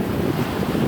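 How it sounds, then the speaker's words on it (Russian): Steady wind buffets the microphone on a beach in Mumbai by the Arabian Sea, with a broad, continuous rush of surf beneath it and no pauses or voices. "Пляж в Мумбаи, он же Бомбей, просто ужасен."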